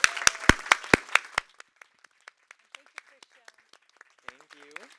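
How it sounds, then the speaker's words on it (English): An audience claps in a dense, loud burst that thins out after a second or so into scattered single claps, and a voice speaks briefly near the end. "let's give these fine folks a round of applause"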